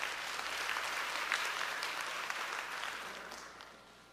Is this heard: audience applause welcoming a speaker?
yes